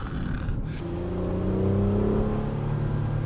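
A Honda Pilot's 3.5-litre V6 accelerates, its engine note rising steadily from inside the cabin as the revs climb, with no voices.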